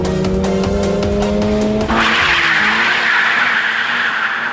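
A 2025 Toyota GR86 Hakone Edition with a 2.4-liter four-cylinder boxer engine revs hard at a standstill, then launches without launch control into a loud, sustained tire squeal that rises over the engine note.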